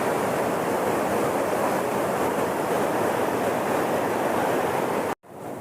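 Water pours with great force from the open shutters of Malampuzha dam, a dense, loud, unbroken roar heard nearby that cuts out abruptly near the end; no voices.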